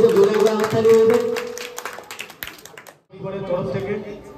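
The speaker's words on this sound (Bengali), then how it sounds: "জোরে একবার হাততালি হয়ে যাবে।" Audience at a Zee Bangla television show breaks into loud clapping, a dense burst of many hands that fades out, then a second round of applause picks up after a brief pause.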